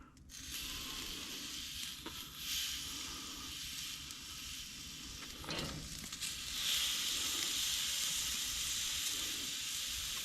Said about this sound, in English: Finish with the sear.